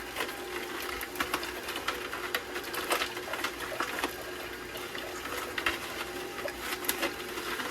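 Canoly C16 cold press juicer grinding carrots, a continuous mechanical churning with crackly, irregular crunching ticks throughout, moderately quiet and steady.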